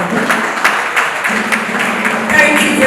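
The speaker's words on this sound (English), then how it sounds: "A round of applause to Dr. Ufuoma." An audience applauding Dr. Ufuoma at his 2021 send-off ceremony as outgoing Marie Stopes country director, a steady wash of clapping from a crowd filling the room without a break.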